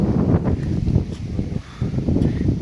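Gusty wind buffeting the microphone with low rumbling bursts that rise and fall throughout, no voices.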